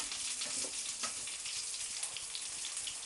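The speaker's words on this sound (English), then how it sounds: "I'm going to fry them in a little oil" Cherry tomatoes frying in a little oil give off a soft, steady sizzle with faint crackles and scraping, close and quiet with no talking.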